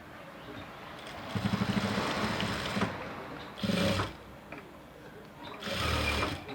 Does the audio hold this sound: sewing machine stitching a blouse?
yes